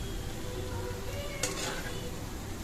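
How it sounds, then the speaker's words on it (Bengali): Loitta fish fries in a pan with cumin powder, giving a steady close sizzle with stirring scrapes and a brief brighter hiss midway. "এটাও দিয়ে বেশ কিছুক্ষণ মাছটাকে কষাতে হবে, একদম শুকনো হয়ে যাবে।"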